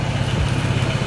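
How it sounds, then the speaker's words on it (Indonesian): A Honda PCX 160 scooter engine idles nearby, giving a steady low, even rumble over about a second with no talking. "Sebelumnya kita hidupkan dulu mesinnya."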